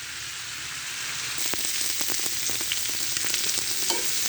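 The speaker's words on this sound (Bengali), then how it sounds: "এইভাবে ফালা ফালা করে ভাজি করবেন" Sundarbans crab frying with sliced bitter gourd in a hot pan, giving a loud, steady sizzle that swells after the first second, with scattered spits and stirring scrapes close by.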